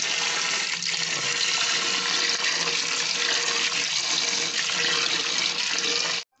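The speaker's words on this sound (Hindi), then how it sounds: "दो तीन पानी से उनको धो देंगे अच्छे से।" Running water rinses fresh coriander leaves in a steady, close, continuous splashing flow that stops abruptly at the end, with no voices.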